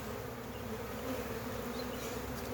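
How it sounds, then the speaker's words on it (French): A swarm of black honeybees gives off a steady, dense buzzing drone, moderately quiet and continuous, with no voices over it. "pour de l'abeille noire, c'est un essaim qui est relativement sympa"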